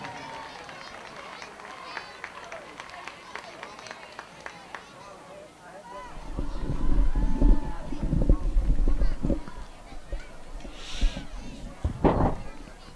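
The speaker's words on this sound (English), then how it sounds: "Round of applause for our catgut tonight." Stadium crowd at a high school football game applauds the team captains, a swell of broad clapping and cheering from the stands that rises under an announcer's voice and continues with scattered shouts.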